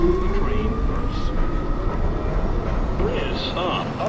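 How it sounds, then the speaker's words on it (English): A New York subway Downtown Express 2 train pulls into a station with a loud, steady rumble and rail noise, and a public-address voice plays over it. "Downtown Express 2 train approaching the station."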